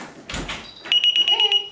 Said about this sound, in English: I'm gonna open the door, invite my guest in